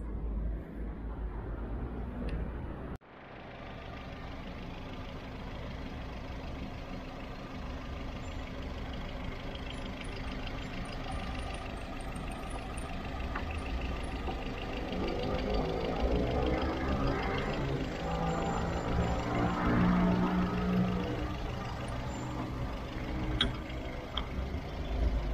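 Volkswagen car engine, Gol/Fox/Polo type, cranks over with an abrupt start and then settles into a steady, fairly quiet idle for a long stretch, with faint occasional talk nearby.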